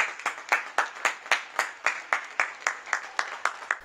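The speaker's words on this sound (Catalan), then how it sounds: "Terrasses i balcons s'omplen d'aplaudiments cada dia a les 8 del vespre" People clap in unison from terraces and balconies in Terrassa for health workers during the coronavirus crisis, a steady rhythmic applause of about fourteen even beats heard from a distance.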